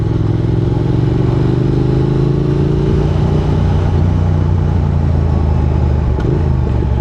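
A Triumph Thruxton R motorcycle engine runs close and loud on the road. It gives a continuous throbbing drone with a low rumble, and the pitch shifts slightly as it pulls along. Wind noise sits over it and no one talks.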